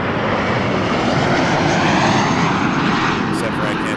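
A regional jet at Toronto Pearson Airport gives a steady, loud broadband engine roar that fills the whole stretch, with a faint voice underneath.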